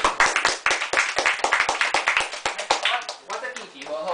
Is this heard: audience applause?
yes